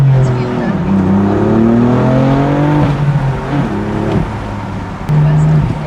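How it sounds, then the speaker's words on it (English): A 2020 BMW M4 with a manual gearbox revs and pulls hard, its engine note climbing in steady sweeps with gear changes between, loud and close throughout, with a voice speaking over parts of it. "This engine pulls good."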